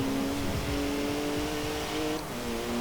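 A BMW Z4 engine in the Forza Horizon 4 racing game holds a steady, fairly subdued drone with layered tonal harmonics that shift slightly late on, with no voices over it.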